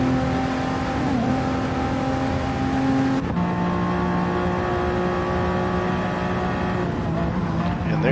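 Race car engines roar down a straightaway at Le Mans in a racing video game, a steady loud drone with a gear shift about three seconds in and a faint voice underneath.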